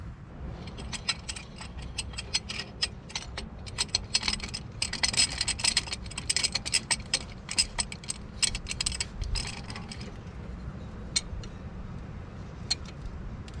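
A tool compresses a brake caliper piston back into its bore, giving a long run of close, rapid ratcheting clicks and metallic mechanism noise that slows to a few scattered clicks near the end.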